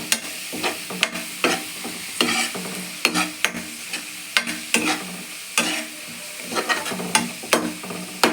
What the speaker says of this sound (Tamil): இஞ்சி போடு பச்சை வாசனை போகிற வரையும் நல்லா வதக்கலாம்